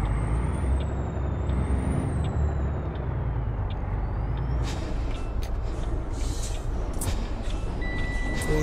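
A truck's air brake in the American Truck Simulator video game gives a long, loud hiss under a rumbling engine. Sharp bursts and a short tone follow.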